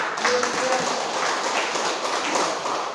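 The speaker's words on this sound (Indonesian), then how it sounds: "Tepuk tangan dulu." Congregation applause during a church service, a dense, even patter of many hands clapping at moderate volume, continuous for a few seconds with a faint voice briefly audible at the start.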